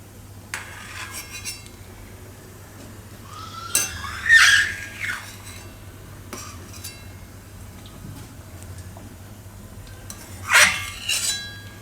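A spoon scrapes and clinks against a pot of boiling dal as foam is skimmed off, with a few sharp metallic taps standing out over a quiet bubbling background.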